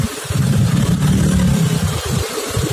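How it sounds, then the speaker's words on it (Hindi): Engines of road traffic at a busy Indian intersection rumble loud and close, heard from a Bajaj Platina motorcycle, a steady low drone with revving swells and no talk. "स्वागत कर दिया है ट्रैफिक ने हमारा, क्योंकि ये चौक चौराहा पे तो ऑब्वियसली बहुत ज्यादा ट्रैफिक रहती है"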